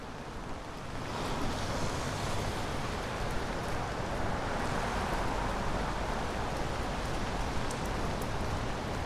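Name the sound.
heavy rain falling on a city street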